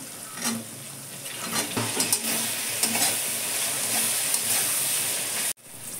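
Peas tossed into a hot pan with spices sizzle steadily while a spatula stirs them, scraping and clacking now and then, close and fairly loud, cutting off abruptly near the end.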